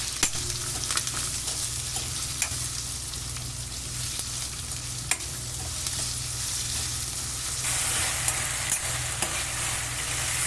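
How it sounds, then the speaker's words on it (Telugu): Onions sizzling in a pan while being stirred, a steady frying hiss with small clicks and scrapes from the spoon throughout. "ఉల్లిగడ్డలు జర మధ్య రకం అయ్యేదాకా కలుపుకోవాలి"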